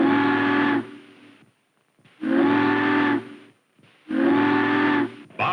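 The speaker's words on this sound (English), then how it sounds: "Bob listens for her to signal for the bridge. 3 long whistles." A large ship in a harbor sounds its steam whistle three times to signal a lift bridge to open: three long, loud, steady blasts with short gaps between them.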